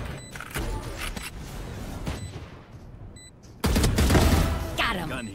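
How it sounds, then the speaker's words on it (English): Rapid gunfire bursts crackle through a first-person shooter match, with a short lull midway before a louder, denser volley erupts near the end, while players talk over the shooting. "He's shooting on me."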